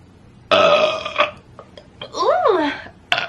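Girls burp loudly and close up: a long, drawn-out belch, a few small hiccuping burps, then a rising and falling burp and a last sharp burst.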